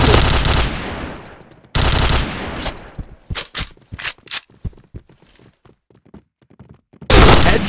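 Gunfire in the Point Blank video game: a long loud automatic burst, a second burst, then a rapid scatter of separate single shots with short gaps, and a final loud burst at the end.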